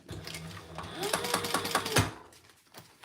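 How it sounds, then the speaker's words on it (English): Sewing machine stitching a crossbody bag, a short run of fast, steady mechanical whirring with needle clatter, moderately close and fairly quiet, with soft handling noise around it. "Now, I always sew with my gusset up."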